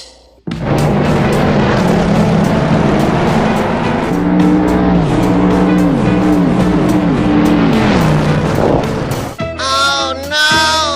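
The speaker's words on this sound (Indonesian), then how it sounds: "Mobil sport." A sports car engine roars loud and close, holding a steady high rev with shifting pitch for several seconds before cutting off, followed by brief bright tonal sounds.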